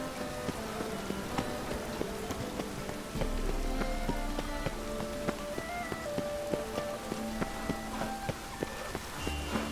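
Video game rain falls steadily, pattering on surfaces and dripping for the whole stretch, with a few sharper knocks and footstep-like taps mixed in.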